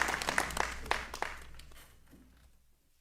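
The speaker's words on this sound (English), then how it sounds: "Let's give them a big round of applause." Applause from a forum audience for candidates for alderman of Ward 5 in Ocean Springs starts fairly loud with distinct claps, then fades out over about two seconds into near silence.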